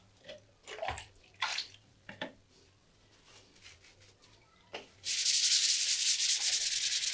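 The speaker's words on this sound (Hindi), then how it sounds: "अब इस साइड पानी डालेंगे थोड़ा सा।" Water is poured onto an LED TV diffuser sheet from a Samsung UA32H4270AS set and rubbed by hand, a few soft scrubbing strokes followed by a loud, steady, close rush of water, while someone talks.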